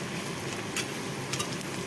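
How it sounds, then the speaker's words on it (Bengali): Onions frying in a pan for a home meal, a steady soft hiss and sizzle with a couple of faint stirring clicks, heard alone without any voices. "পেঁয়াজটা ভাজা করছি"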